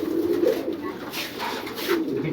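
Male pigeons coo in a cage, low throaty rolling calls rising and falling close by, with some rustling and fluttering among them.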